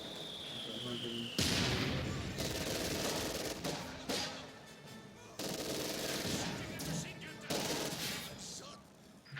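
Sustained bursts of machine gun fire in a winter battle from Company of Heroes 2, rapid rattling volleys separated by short pauses, loud and close, with someone talking over the combat.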